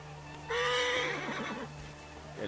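A horse in Assassin's Creed Origins gives a loud, clear whinny with a rising, shaky pitch lasting about a second, tapering off over a steady low hum, followed by a softer snort near the end.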